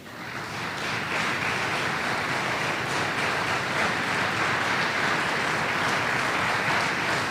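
A church congregation claps together in a broad, sustained round of applause that rises quickly and holds steady without a break.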